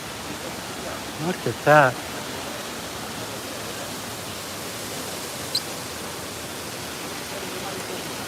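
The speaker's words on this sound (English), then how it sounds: "This is the Trevi Fountain." Steady broadband rush of water flowing at the Trevi Fountain, an even wash filling the scene, with a few brief voices speaking over it.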